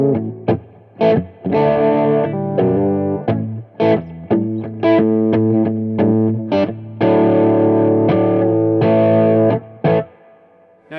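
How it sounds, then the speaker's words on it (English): Distorted electric guitar chords through an EQ/gain pedal ring out in loud, gritty bursts with short pauses between strums, the tone crunchy and saturated. "as we start to increase the gain of the EQ here, we're also starting to get some distortion"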